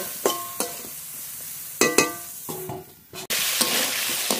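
Pointed gourd frying in a wok over low heat while a spatula stirs it, sharp scrapes and clinks against the pan over a constant close sizzle, with a louder burst of frying toward the end.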